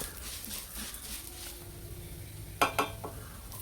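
Black urad dal and lentils slowly dry-roasting in a pan give a quiet, steady rustle and faint sizzle, with a couple of sharper scraping clatters of the pan near the end.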